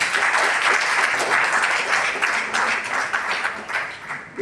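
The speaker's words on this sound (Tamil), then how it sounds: "ஒரு பெரிய கைத்தட்டு கொடுக்கும்" An audience at a Tamil book launch breaks into steady, dense clapping that carries on evenly for several seconds with no voices over it.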